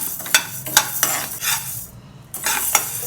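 Urad dal dry-roasting in a pan for idli podi, with repeated scraping, stirring strokes of a spatula against the metal and a faint dry rustle of lentils between them, close and clear, no talk.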